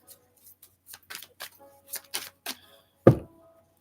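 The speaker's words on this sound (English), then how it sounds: "Hold on. Let me shuffle my cards." Tarot cards are shuffled by hand close up, producing a series of short, crisp papery riffles and taps in an uneven rhythm, ending with a louder thump as the deck is squared.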